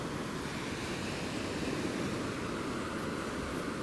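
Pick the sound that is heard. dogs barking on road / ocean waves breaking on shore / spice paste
ocean waves breaking on shore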